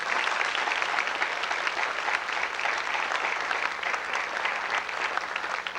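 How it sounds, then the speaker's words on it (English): Sustained applause fills a room at a high school athletic banquet, a dense, even clapping from the whole audience that holds steady throughout. "If we could have everyone give those people a round of applause."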